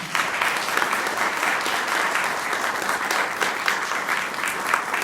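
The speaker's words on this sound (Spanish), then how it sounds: "Un aplauso, por favor." An audience applauds steadily at a talk on euthanasia and law, dense clapping holding at an even level for the whole stretch with no speech over it.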